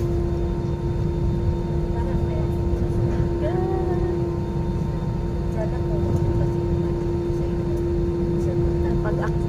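Continuous cabin drone of an airplane engine in flight, heard from an aisle seat: a steady low roar with a sustained hum, loud and unbroken, with faint voices in the background.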